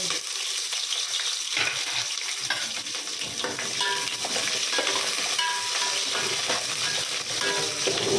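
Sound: whole spices frying in hot oil for pulao

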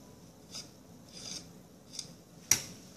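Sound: scraping potato cake batter without a spatula

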